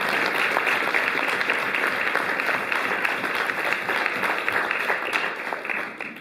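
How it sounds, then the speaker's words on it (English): Audience applause at a meeting on adoption, a full continuous round of many hands clapping, steady and loud throughout. "Let's give you a round of applause"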